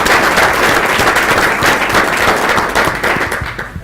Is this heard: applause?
yes